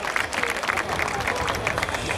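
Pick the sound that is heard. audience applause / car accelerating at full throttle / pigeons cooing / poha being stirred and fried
audience applause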